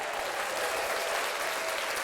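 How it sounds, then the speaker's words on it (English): An audience applauds, a dense steady clatter of many hands clapping, somewhat distant and soft, sustained throughout without pause. "Round of applause."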